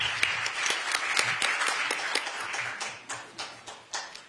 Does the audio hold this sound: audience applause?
yes